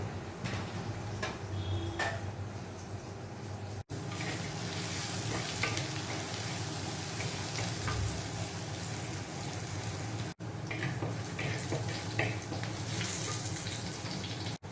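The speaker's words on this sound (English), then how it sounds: "garlic chop, ginger garlic paste, and we have to saute it" Chopped garlic and ginger garlic paste sauté in hot oil with a steady, close sizzle and occasional stirring clicks, continuing without pause and without talk.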